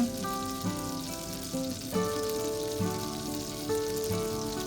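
Butter melts in a pan over very low heat for corn cream soup, a soft, steady sizzle and faint crackle running quietly beneath a tonal hum throughout.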